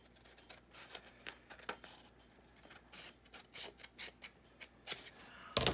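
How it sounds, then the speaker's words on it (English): Scissors snip off a piece of folded paper for an accordion notebook, a quick run of short crisp cuts, close and dry, with no voices. "let me cut this side off here"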